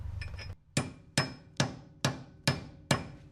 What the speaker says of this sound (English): Tap a little bit that side, a little bit this side, until it goes in with that plastic mallet